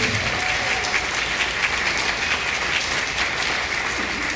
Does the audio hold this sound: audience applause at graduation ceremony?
yes